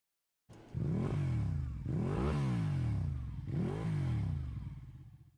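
A motorcycle engine in the ACE Academy video game revs hard three times in a row, each rise and fall loud and close, then settles into a steady drone, with no talking.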